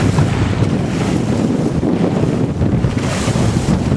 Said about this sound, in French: on rase les falaises turques parce qu'il y a un vent de travers qui nous fait aller à 5 nœuds